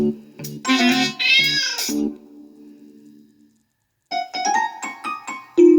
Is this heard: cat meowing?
yes